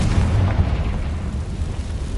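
In Hogwarts Legacy, the Confringo fire spell goes off as a loud, booming blast with a broad rumbling roar that stays heavy and sustained for a couple of seconds, with no talking over it.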